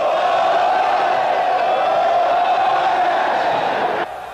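A football stadium crowd roars after a goal in a 2008 Copa Sudamericana match between Atlético Mineiro and Botafogo, a loud, sustained wall of shouting voices that holds steady, then drops slightly near the end.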